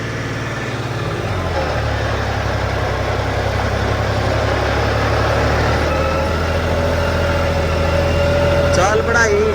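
A John Deere 5210 V2 tractor engine runs with a steady low diesel rumble close by, a speed change partway through, and brief higher whines near the end.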